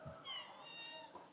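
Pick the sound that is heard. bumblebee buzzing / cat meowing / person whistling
cat meowing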